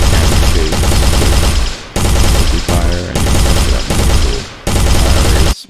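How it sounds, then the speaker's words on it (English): Loud, sustained bursts of rapid automatic gunfire from a weapon in an Unreal Engine 4 shooter, several long volleys separated by brief gaps, with no voices. "if our mouse is still pressed at this point, then we will shoot."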